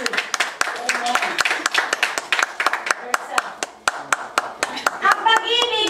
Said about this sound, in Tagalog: Ang mga anak ng Diyos, sabay pumalakpak.